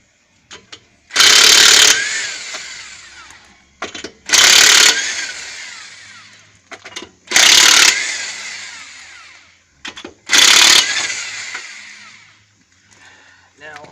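Lug nuts are spun off a Honda Civic wheel with a 19mm half-inch socket on a power tool. Four loud, close bursts of whirring each stop abruptly, separated by quieter clicks and handling.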